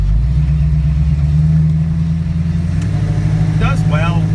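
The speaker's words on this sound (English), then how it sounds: "Again, you know, car's turning fine left and right." A 1974 AMC AMX Javelin drives along with its engine running, a loud steady low drone and rumble throughout, with a voice speaking briefly near the end.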